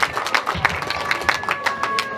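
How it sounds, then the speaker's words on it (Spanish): Dense applause from a crowd, many hands clapping steadily throughout with a faint tone running underneath. "Leomar Piero Tiglias Águilas, para quien también pido fuerte voto de aplauso."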